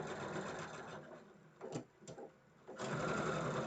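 A domestic sewing machine stitching a seam on a quilt block, running in a steady rapid whir that pauses briefly twice before resuming.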